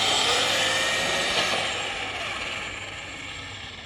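An 8S Traxxas Xmaxx RC monster truck with a TP5850 motor speeds across a parking lot. Its loud whining motor is close at first, then fades as it pulls away.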